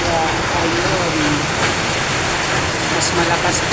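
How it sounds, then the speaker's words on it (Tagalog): Steady downpour drums on the roof of a house, a loud continuous wash of noise with a person faintly talking beneath it. "mas malakas pa yung tunog ng ulan kaysa sa boses ko."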